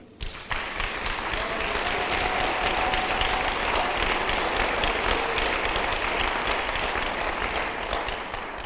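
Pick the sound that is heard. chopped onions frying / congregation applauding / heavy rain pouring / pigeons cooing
congregation applauding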